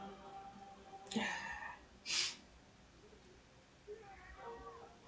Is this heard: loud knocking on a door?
no